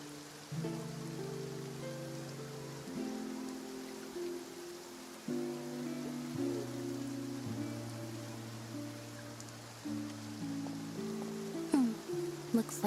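Steady rain falls in a fantasy video game setting, a constant soft hiss running beneath layered sustained music tones, with a few faint clicks near the end.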